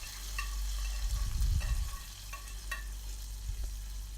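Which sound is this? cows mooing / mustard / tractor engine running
mustard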